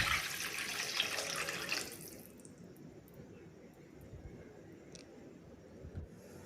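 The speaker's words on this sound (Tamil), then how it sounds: "சேர்த்து ஒரு 800 ml தண்ணீர் விடவும்." Roughly 800 ml of water pours into a pan of sautéed onions and dried red chillies for samba rava upma: a close, bright splashing rush for about two seconds, then the kitchen goes quiet.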